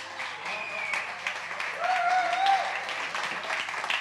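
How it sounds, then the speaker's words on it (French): Fairly quiet applause from a gathered audience at an evening event, a soft wash of clapping with a few tonal sounds and voices rising over it midway. "je vous demanderai de faire un tonnerre d'applaudissements lorsque j'aurai élu."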